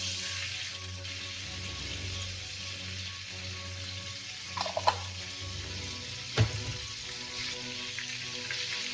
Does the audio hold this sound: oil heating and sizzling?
yes